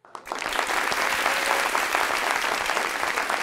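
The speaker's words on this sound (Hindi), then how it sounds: "बता दें अपनी तालियों में" Studio audience at a television talk show breaking into applause, clapping that swells quickly after a brief quiet start and holds at a full, steady level throughout.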